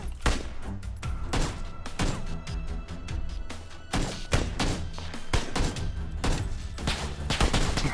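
Sharp gunshots and rapid volleys in a shooter video game, many loud close cracks in irregular bursts throughout, with thuds and in-game background sounds.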